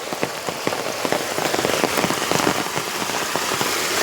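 Heavy monsoon rain pours down on a village at risk of flooding, a dense continuous patter of drops on surfaces with rushing runoff water beneath, loud and close throughout.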